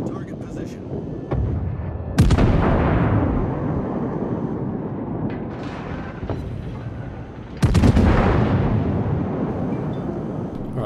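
Warship main guns boom in World of Warships: two heavy, close salvos land several seconds apart, each a sharp blast trailing into a long rumbling decay, with a player talking in between.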